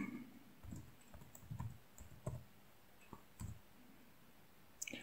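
Password being typed on a computer keyboard during a Salix 15 GNU/Linux install, heard as sparse, irregular clicks and taps scattered over about five seconds at fairly low level, with no one talking.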